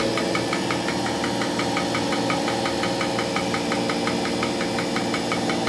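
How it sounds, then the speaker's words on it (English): A sap-extraction vacuum pump at a maple sugaring operation runs steadily nearby, a loud continuous mechanical drone with a fast regular knocking pulse, alone without talk. "My son has started the vacuum pump up."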